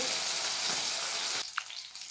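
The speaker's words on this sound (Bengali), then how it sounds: "মাছগুলো ভাজা" Bata fish sizzle loudly in hot oil in a pan, a dense steady hiss that cuts off sharply partway, leaving a faint quieter tail.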